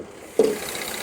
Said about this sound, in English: Just started an engine.